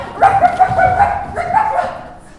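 A dog barks in a few sharp, close, loud yips and bow-wows with a whimpering, tonal edge, clustered in two short bursts before the sound fades away.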